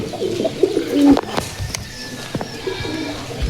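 Giribaaz pigeons in a loft give low, throaty coos close by, with a few soft wing flutters and shuffles between the calls.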